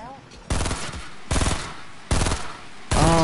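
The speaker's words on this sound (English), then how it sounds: "No, the worst gun in the game! This minigun!" A minigun in Fortnite fires in repeated loud bursts of rapid automatic fire, each lasting under a second, with short gaps between them.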